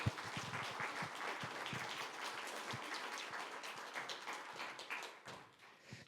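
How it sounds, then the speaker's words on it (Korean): A church congregation applauds at a graduation ceremony for an intercessory prayer school: dense, steady applause from many hands that carries on for several seconds, moderately quiet and slightly distant, with no voices. "큰 박수로 축하해 주시기를 바랍니다."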